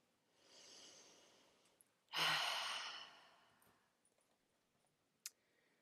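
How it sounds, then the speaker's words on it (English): One slow, deep breath is drawn in and let out during a guided meditation. It is soft and close, with a louder breathy exhale in the middle and a small click near the end. "Take a deep breath."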